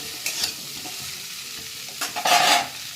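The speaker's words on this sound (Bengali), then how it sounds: "আমলকিগুলো দিয়ে আমি একটু ভালো করে নাড়াচাড়া করে নেব" Amla pieces are stirred in hot mustard oil in a pan for a pickle, and the frying sizzle carries close and steady. Short bursts of scraping and stirring break in near the start and more loudly toward the end, with no voices.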